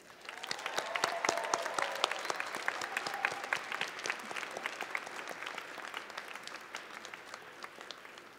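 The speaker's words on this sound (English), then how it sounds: "give all of these people a big round of applause" Graduates at a winter commencement ceremony stand and applaud, a big hall full of hands clapping briskly, with individual crisp claps standing out close by and the volume fading gradually toward the end.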